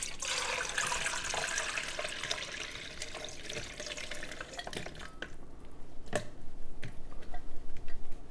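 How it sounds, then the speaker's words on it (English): Homemade chicken broth pours through a colander into a bowl beneath, a wet rushing splash at first that thins into scattered drips, clinks and trickles before a louder final pour, close by with no talking. "I'm just going to strain it into a colander with a bowl underneath."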